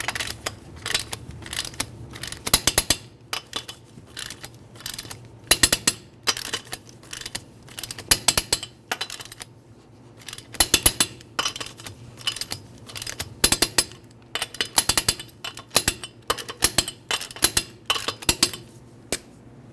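Lug nuts on a Nissan Altima wheel are torqued in a crisscross pattern, giving sharp metallic clicks and ratcheting snaps in irregular clusters, close up and crisp against near silence.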